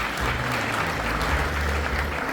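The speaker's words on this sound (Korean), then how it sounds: "박수 부탁드립니다." Audience at a year-end gala in a hotel ballroom claps steadily, a dense, even wash of applause that fills the room without any voices standing out.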